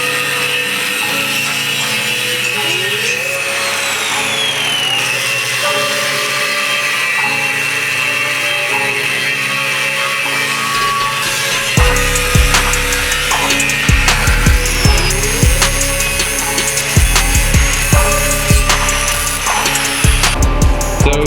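Power tool cutting through steel jack stand feet, a loud steady grinding whine that grows heavier and rougher partway through, with repeated bursts as the blade bites into the metal.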